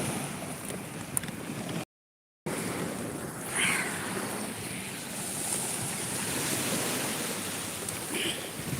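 Sea waves wash steadily onto the shore at an outdoor beach by a forest on a cool day, a continuous broadband surf roar with slight swells, close and fairly loud, briefly cut out near the start.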